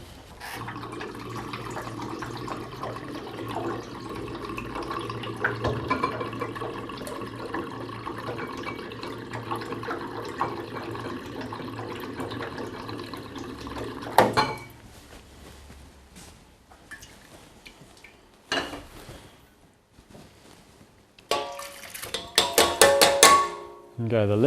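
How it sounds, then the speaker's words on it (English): Water running into a cooking pot in a kitchen, a steady filling rush for about fourteen seconds that then cuts off, followed by sparse clunks and clatter of cookware. "And we'll get some water into the pot."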